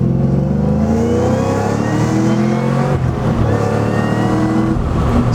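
A 700-horsepower Cadillac CTS-V wagon accelerates hard, its engine note climbing steadily, dipping briefly around a shift, then rising again. The engine is loud and continuous and dominates throughout.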